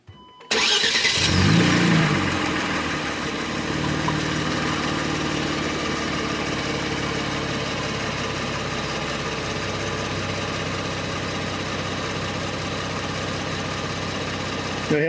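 A 2019 Kia Stinger engine cranks and catches with a loud start, briefly revs, then settles into a steady, even idle that continues to the end.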